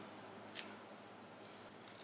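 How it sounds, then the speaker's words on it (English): Kitchen scissors snip green onions as a garnish over slow-cooker Mongolian beef, giving one crisp close snip and then a few softer faint cuts in a quiet room. "I would go ahead and snip some green onions right on the top there"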